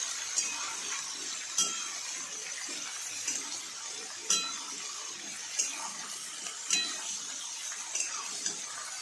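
Bottle gourd being stirred in a cooking pot, heard as soft scraping with intermittent light clinks of a spoon against the pot, close and fairly quiet, with no talking.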